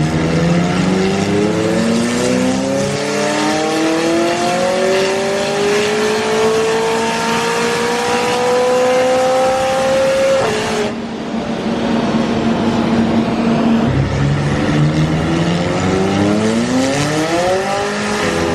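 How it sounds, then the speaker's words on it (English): McLaren 600LT on a dyno in rear-wheel-drive mode screams up through the revs in a long rising wail, snaps through a gear change, then climbs again, very loud and close with fan noise underneath. "we're about to do the first dyno pull"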